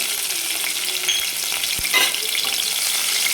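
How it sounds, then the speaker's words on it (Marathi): Finely chopped green chillies hit hot oil in a pan and fry with a steady, close, bright sizzle that holds throughout, broken by one soft thump midway; no one speaks. "तीन हिरव्या मिरच्या बारीक कट करून घेतलेल्या आहेत ते आपण टाकून घेऊ"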